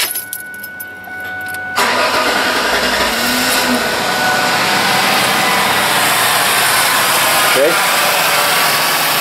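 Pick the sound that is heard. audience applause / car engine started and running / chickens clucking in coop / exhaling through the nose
car engine started and running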